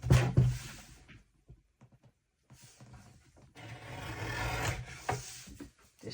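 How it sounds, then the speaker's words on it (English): Paper trimmer blade slicing the edge off a card base, a close, dry rasping slide in two bursts separated by a short quiet gap, with a few small taps in between. "I'm going to run that through my trimmer"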